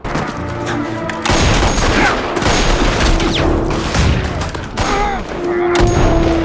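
Rapid bursts of gunfire erupt in a violent massacre scene from the Fargo TV series, loud and dense, with shots and booms overlapping in a near-continuous fusillade and a brief lull before it resumes.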